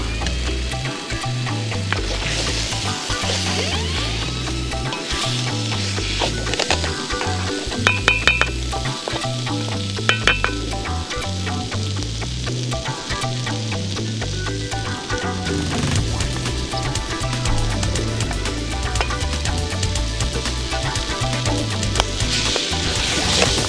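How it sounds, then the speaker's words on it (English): Steady, busy sizzling of seafood curry frying in a hot pan, with occasional crackles and light stirring, continuous and close throughout. "now that's frying up nicely"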